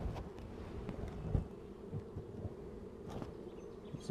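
Calm honeybees in a hive at Coramba make a faint, low, continuous buzzing hum, with a few soft knocks scattered through it.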